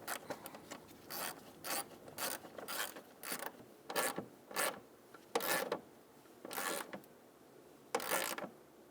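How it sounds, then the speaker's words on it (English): A ratchet tightens a bolt on the condenser cooling fan assembly of a 2000-2007 Ford Taurus, quiet rapid clicking strokes in irregular bursts, close and isolated. "Okay, now you can tighten your bolt."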